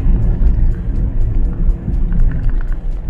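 Car cruising in fifth gear, a steady deep engine and road rumble heard from inside the cabin, loud and continuous with no gear changes.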